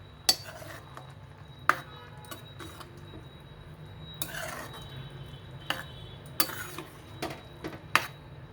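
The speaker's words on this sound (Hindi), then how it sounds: "अब हम इसको चलाते हुए पकाएंगे" Carrot halwa with milk and cream is stirred in a pan as it cooks, producing a steady low simmering bed broken by scattered scraping clinks and knocks of the spoon against the pan.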